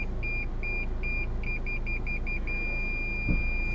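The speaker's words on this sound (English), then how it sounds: "The closer we get, the more urgent the beeping." Parking sensor on a 2017 Toyota RAV4 GXL beeping in quick repeated high tones that speed up, then turn into a steady continuous tone as the car closes in, over a low engine hum.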